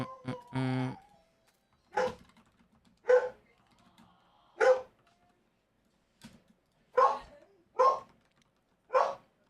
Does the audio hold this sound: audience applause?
no